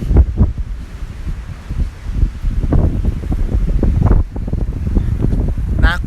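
Strong wind buffets the microphone while rough ocean waves surge and crash along a coast hours before Hurricane Dorian arrives, loud and continuous with gusty swells, and no voices are heard.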